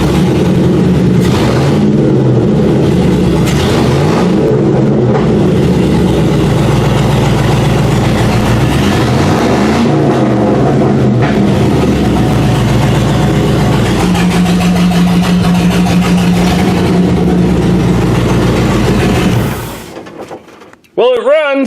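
A truck engine runs loud and steady with a rough idle and a few revs, cutting off abruptly near the end; no talking over it.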